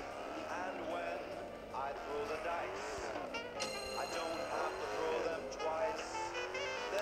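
A car speeds along in a video game after escaping police, its engine whining with sweeping pitch changes and occasional tyre noises, fairly faint under someone talking.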